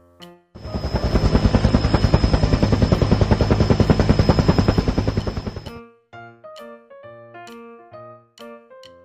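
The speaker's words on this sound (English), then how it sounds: "Helicopter." A helicopter's rotor thumps in a fast, steady pulse, loud and close for several seconds before cutting off abruptly.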